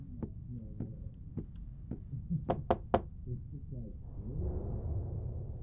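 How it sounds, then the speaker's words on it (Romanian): Muffled voices and a television murmur through a closed door, faint and indistinct, following a series of sharp knocks and thumps nearby. "Se aud niște voci din interior. Oh, fuck me. Se aude un televizor."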